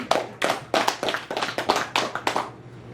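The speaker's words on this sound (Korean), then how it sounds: "박수 한번 치고." A small group claps at a gathering of Haeju Oh clan association leaders, a short run of about nine crisp, fairly regular handclaps that are close and moderately loud, with no talking.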